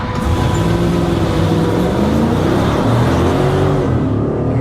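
A 2015 Chevy Silverado's 6.2L V8 roars loud and close as it revs, its deep engine tone rising in steady sweeps through a few seconds of hard acceleration.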